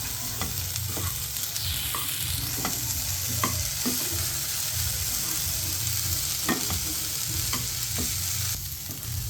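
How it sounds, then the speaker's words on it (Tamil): Cooked beans are stirred into a lentil mixture in a hot pan, a steady sizzle under repeated scraping strokes of a spoon against the pan, close and continuous with no talking. "அந்த பீன்ஸ் அதை இதில் போட்டுக்கலாம். போட்டு கலந்துக்குங்க."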